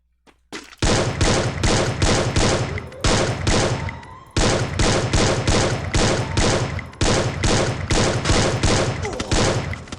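Loud gunfire in the video game Free Fire, rapid repeated shots in several sustained bursts separated by brief gaps, close and dominant.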